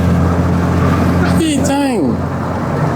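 A Peugeot 306 car engine runs in a steady low drone, close and fairly loud, while a voice speaks briefly over it partway through.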